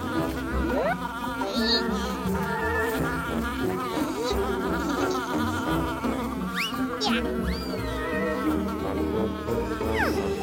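Bees swarm and buzz steadily after a hive is struck by a slingshot shot, a dense droning hum with rising whines as single insects pass close, layered over a busy background.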